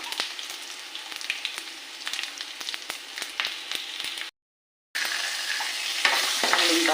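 A tadka of dried red chillies, mustard seeds, cumin, garlic, curry leaves and a pinch of asafoetida frying in hot oil gives a steady close sizzle with crackling pops, broken by a short silent gap, then sizzling more loudly.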